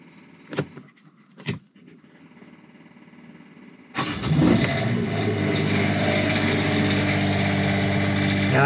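An Onan RV generator cranks with a couple of short starter bursts, then fires up and settles into a loud steady running drone that continues to the end.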